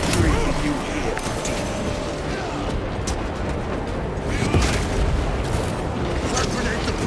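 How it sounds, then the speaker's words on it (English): A frag grenade blast in Warhammer 40000: Space Marine 2 amid dense, continuous battle noise, with rumbling booms and a sharper burst near the end, all under overlapping in-game voices. "Frag grenade deployed."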